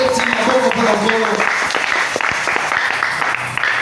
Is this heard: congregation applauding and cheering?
yes